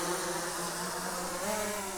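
Propellers of an Autel Evo Lite Plus drone give a steady, fairly faint insect-like buzz with a constant high whine, coming in to land over an old door, with no talk.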